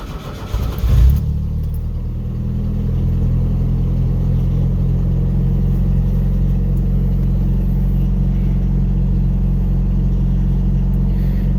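A pickup truck engine starts from cold with a brief cranking burst, then catches and settles into a steady, loud, low idle rumble that holds evenly for the rest of the time, with no talk.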